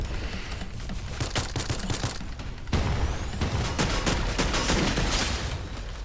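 Rapid bursts of gunfire in the Free Fire video game strike a car: sharp cracks and rattling volleys come in clusters at close range, a loud thump lands midway and steady firing follows.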